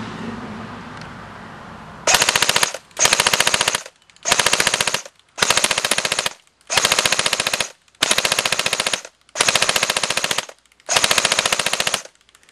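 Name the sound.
airsoft gun firing full auto burst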